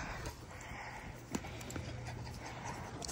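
A donkey moving on its hooves, a few soft clip-clop steps with one sharper knock, close by over a noisy outdoor background.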